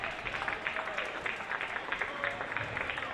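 Home crowd at a girls varsity high school basketball game applauding a substituted Minster player, a steady wash of dense clapping and crowd noise filling the gym for a few seconds.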